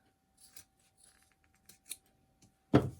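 Scissors cut craft material for a no-sew graduation gnome, making a few quiet, separate snips that end in one louder, closer closing cut.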